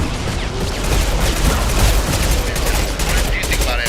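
Heavy weapon firing in the video game Mass Effect 2, a loud, continuous barrage of dense booming blasts with rapid overlapping shots filling the whole stretch without a break.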